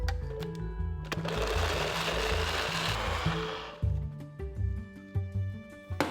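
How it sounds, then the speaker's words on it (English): A kitchen blender chopping parmesan and Gouda cheese, a loud whirring grind for about three seconds over light background music, then stopping as the music carries on. "Add 20 grams of parmesan and 40 grams of Gouda, then blend until finely chopped."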